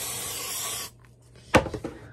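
An aerosol spray can hisses in one continuous loud burst indoors in a bedroom, cutting off abruptly, followed by a few soft rustles and knocks.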